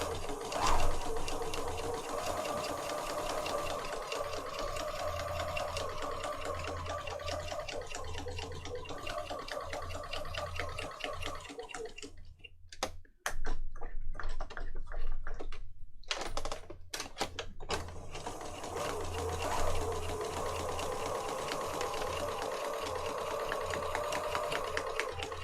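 A sewing machine stitches across a paper tag on a junk journal pocket with a fast, steady mechanical whirr. It stops briefly midway amid some handling clatter, then resumes its even, close-up running.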